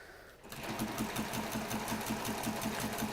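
A sewing machine stitching a quilt block starts up after a brief quiet moment, then runs with a steady, rapid mechanical hum and fast, even needle rhythm, close and continuous.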